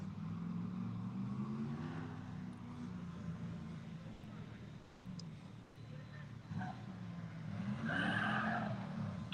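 A race car on its third lap heads to the finish line at a live rally event, its engine drone rising and falling under ongoing commentary, with a brief tyre-squeal-like burst near the end.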